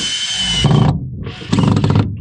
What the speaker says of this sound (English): I am going to drill each corner and then one in the middle.